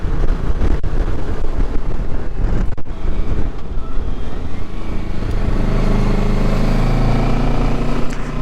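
Loud, constant wind roar buffeting the microphone on a windy day while riding a Kawasaki Versys motorcycle along Cornish coast roads, with a low engine rumble underneath throughout.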